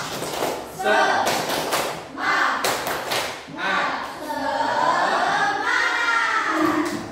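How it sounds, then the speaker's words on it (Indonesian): A classroom clapping chant, led by a teacher with the children joining in, with bursts of group hand claps in a rhythmic pattern over chanting voices throughout. "Tepuk satu, tepuk satu, tepuk dua, tepuk dua, tepuk semangat."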